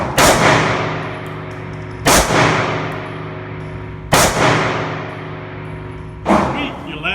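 Four sharp, loud pistol shots from a Hellcat handgun crack at roughly two-second intervals at close range, each followed by a ringing metallic clang and decaying echo.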